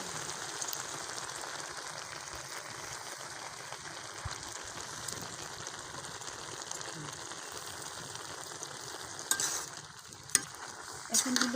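Garlic greens and potatoes frying in a pan in a village kitchen, a steady low sizzle with soft stirring scrapes throughout, a few louder clinks near the end.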